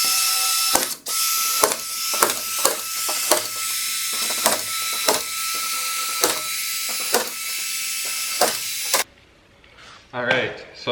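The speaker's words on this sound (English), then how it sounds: "I'm going to run one more line of screws" Drywall screws driven in a run with a power driver while hanging drywall, a steady whirring buzz broken by about a dozen sharp clicking ratchet bursts, close and loud, ending in quieter shuffling.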